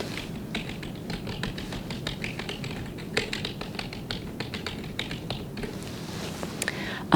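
Fingers tap steadily across a computer keyboard in a soft-spoken sci-fi medical exam roleplay, producing a close, continuous patter of crisp key clicks with no talking.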